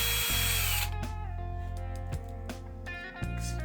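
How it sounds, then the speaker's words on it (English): A power drill bores slowly into the base of a painted resin miniature, a loud close whirring motor that runs steadily at first, then slows and pulses with short bursts as the bit bites in. "Slowly drill until the shaft collar touches the bottom of the"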